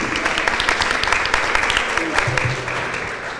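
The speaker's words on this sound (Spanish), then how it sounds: "Pido un fuerte aplauso para todos ellos de manera conjunta." A conference audience at a social security panel in Punta Cana claps together in a steady, dense burst of applause lasting a few seconds, close and fairly loud, easing slightly toward the end.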